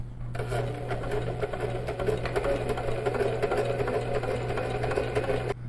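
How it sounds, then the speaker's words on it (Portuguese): A sewing machine stitches quilting fabric at a moderate, even pace, a steady rapid mechanical whir with a low hum beneath that starts just after the beginning and stops near the end. "Você pode ver que eu não preciso ir rápido demais para fazer a costura."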